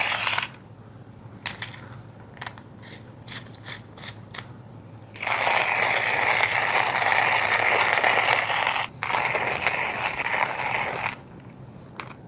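A manual coffee grinder crunches coffee beans in a steady, rasping burst lasting several seconds. Scattered clicks and rattles of the mechanism come before it. No one speaks.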